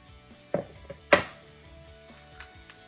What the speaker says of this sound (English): cracking the egg on the side of the bowl.